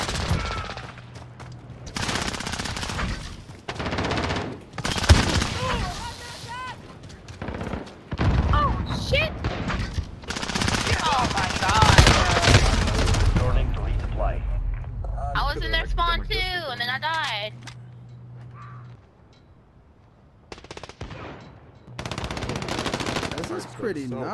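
A gun firing electric bullets in a video game lets off rapid bursts of automatic gunfire in loud, close volleys, with someone talking throughout.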